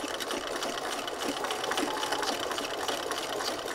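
A sewing machine runs continuously, stitching along the edge of fabric paper made from construction paper, with a steady close buzzing rattle and no pauses.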